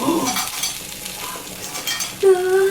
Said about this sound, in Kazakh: Макаронымыз қайнап жатыр